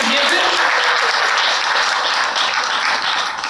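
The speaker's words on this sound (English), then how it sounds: "Let's give a round of applause to" An audience at a Concord India Day celebration breaks into loud applause, dense clapping that holds strongly for several seconds and eases slightly toward the end, with a few voices mixed in.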